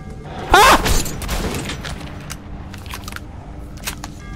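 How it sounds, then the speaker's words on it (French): Gunfire in the video game Metro 2033 Redux: one sharp, loud shot or burst near the start, then scattered fainter cracks and clicks over a low ambient hum. "j'entends des coups de feu"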